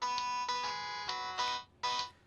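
A cell phone plays a tinny, bright ringtone version of a song, with short bursts of synthesized melody over a brief, fairly quiet stretch.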